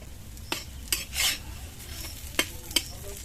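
Pumpkin and shrimp fry in oil in a pan, with a soft steady sizzle broken by a few sharp utensil clinks and one short scraping stir, close up with no talking.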